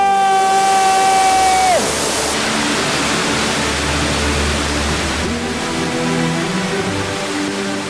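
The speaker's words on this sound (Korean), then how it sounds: "시원하게 물을 내뿜는 폭포" Waterfall in Switzerland pouring over rocky cliffs, a loud, steady, close roar of rushing water that fills the whole clip, with a brief whistling tone near the start.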